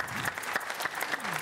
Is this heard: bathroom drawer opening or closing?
no